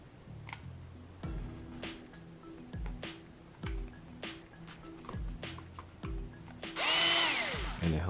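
A power driver fitted with a 2.5 mm bit whirs in short repeated bursts, each followed by a pause, as it backs screws out of the rear end of a Traxxas XO-1 RC car, close and clear.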